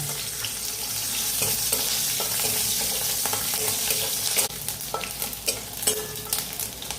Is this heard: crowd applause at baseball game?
no